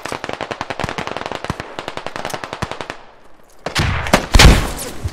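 Rapid automatic gunfire in the video game Squad, a fast stream of sharp shots that pauses briefly before a few louder, heavier blasts close by.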